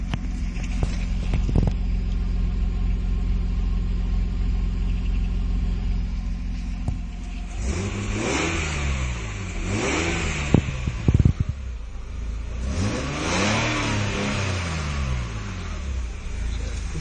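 A Nissan Skyline engine with its exhaust valve open runs with a deep, booming rumble. Midway it revs up and down a few times, swelling louder, with the low drone continuing throughout.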